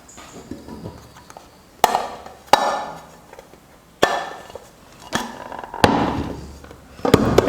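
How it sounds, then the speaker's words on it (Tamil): A cake tray holding a wheat-flour cake is tapped on a hard surface, giving a series of sharp, separate knocks spaced a second or so apart, fairly close and otherwise quiet. "இப்படி நல்லா தட்டி விட்டோம்னா கேக் வந்து அழகாக வந்துடும்."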